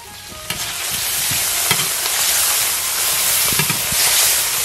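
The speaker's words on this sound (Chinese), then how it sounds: "来点豆瓣酱，炒出红油，辣椒、花椒" Chili bean paste and peppers stir-fry in hot oil, a loud continuous sizzle and hiss broken by scraping stirs and small clanks of the spatula close by.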